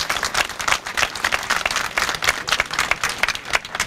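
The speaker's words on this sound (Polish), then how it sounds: "wszyscy wielkie brawa dla Maćka" An outdoor crowd on a town square in Biała Podlaska applauds for Maciek at a political rally, a steady wash of dense clapping at moderate volume from a sizable audience.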